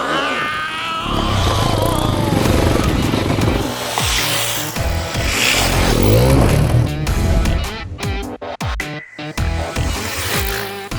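A Hero Xpulse 210 motorcycle engine revs loudly and continuously while being ridden, its pitch rising and falling with bursts of acceleration, close up and steady for about eleven seconds.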